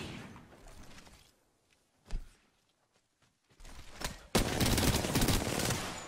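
Gunfire from the battle royale video game Apex Legends: a few brief isolated shots, then a loud, dense volley of rapid automatic fire that runs to the end.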